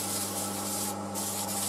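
Steady abrasive rubbing of sandpaper against spinning wood on a lathe, a continuous close hiss over the machine's low hum, with a short dip in the middle.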